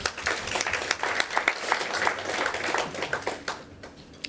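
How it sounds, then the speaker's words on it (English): Audience applause at a women entrepreneurs' gathering, a steady wash of many hands clapping for about four seconds, then tapering off near the end with no talk over it. "So can we clap for ourselves?"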